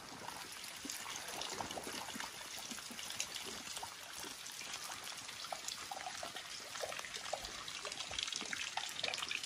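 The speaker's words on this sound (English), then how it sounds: "How can it be raining so hard?" Heavy rain pours down during a sun shower under blue sky, a dense, steady hiss of falling water with scattered drips and splashes, close and continuous with no talk.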